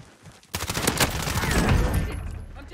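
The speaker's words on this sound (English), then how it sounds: "I'm taking fire" Gunfire in the Modern Warfare Warzone battle royale shooter, a dense burst of shots starting abruptly and continuing as a sustained rattling volley.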